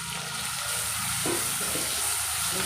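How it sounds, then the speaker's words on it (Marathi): Finely chopped onion fries with cinnamon and cardamom for dhaba-style chicken masala, a soft continuous sizzle with faint stirring, low in level and without talk. "कांदा चांगला रंग बदलेपर्यंत भाजून घेऊया"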